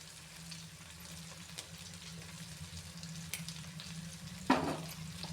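Chicken liver frying in a pan: a steady, faint sizzle with a low crackle throughout, a few small pops, and one sharper spit near the end.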